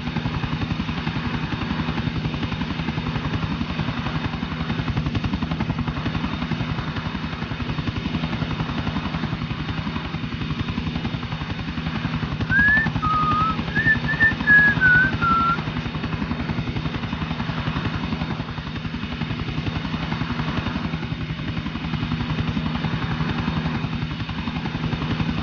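Attack helicopter in Grand Theft Auto 4, a steady thudding rotor and engine drone held at moderate level throughout, with a faint brief tonal chirp midway.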